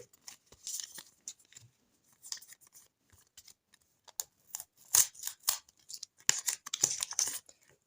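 Intermittent crinkly rustling and tearing of paper wrappers, several short bursts with pauses, close by and fairly quiet, no voices.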